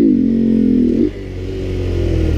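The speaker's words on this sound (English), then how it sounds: "I'm gonna pop the clutch in first on the Grom." Grom motorcycle in first gear with the clutch popped and throttle held open, engine revving loud and steady close by, then the pitch drops sharply as the rear brake is slammed and the engine settles into a lower drone.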